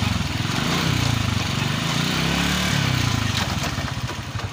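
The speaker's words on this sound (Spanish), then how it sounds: "Voy a pasar a segunda. Y ahí sigue estando normal la moto." A motorcycle runs in second gear, its engine giving a loud, close, steady drone with a pulsing mid-rev rhythm throughout, and no talking.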